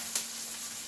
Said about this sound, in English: Let's throw in this onion so long. There's the sizzle we want to hear.